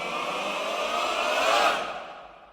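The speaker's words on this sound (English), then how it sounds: "as well as some male choir risers." A male choir riser in the outro of an epic video game battle theme builds as a broad sustained swell, peaks, then thins out into quiet, with a faint echo-like tail.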